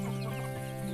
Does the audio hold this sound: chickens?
yes